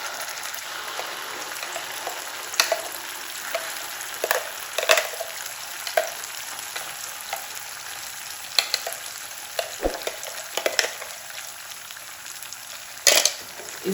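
Tomato chutney sizzles and fries in oil while a spoon scrapes and stirs the pan, a steady close hiss broken by irregular clinks and scrapes, with no voices.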